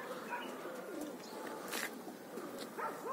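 Pigeons, Phantom and Arab squabs released for a morning training flight, with soft cooing and bird calls close by and wing flutters over steady outdoor background noise.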